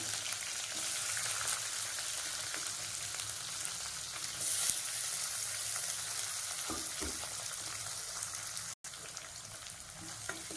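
Onions sautéing with green chillies and coriander leaves in a pan, an even, steady sizzle throughout with occasional soft stirring sounds and one brief cut near the end.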